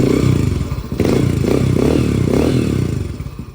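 A Yamaha TTR125 dirt bike engine fires up on its electric starter with the choke on, then idles loudly and close with a choppy, uneven putter and slight revving for a few seconds.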